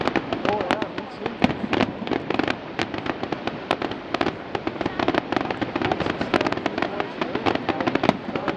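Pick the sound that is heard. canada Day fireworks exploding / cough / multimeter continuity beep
canada Day fireworks exploding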